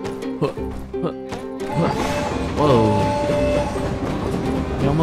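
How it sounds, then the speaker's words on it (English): A train in the video game My Time at Sandrock rumbles past with tonal whistle-like squeals and a horn-like blare, loud and sustained. A voice speaks over its start. "Whoa. You almost hit Coco, train."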